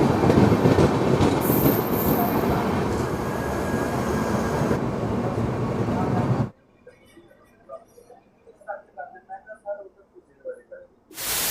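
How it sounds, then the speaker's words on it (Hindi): Shatabdi Express running between New Delhi and Kalka passes a stopped train: loud, steady rushing rail and wheel roar for about six seconds, then cutting off to quiet with scattered faint clicks and thumps. "नई दिल्ली से कालका के बीच चलने वाली शताब्दी एक्सप्रेस इस ट्रेन को ओवरटेक कर रही है यहाँ पे।"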